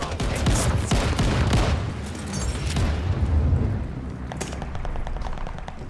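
Sustained barrage of bomb-run explosions and gunfire in the WWII shooter Call of Duty: Vanguard, a loud continuous rumble of booms and crackling blasts filling the whole stretch without talk.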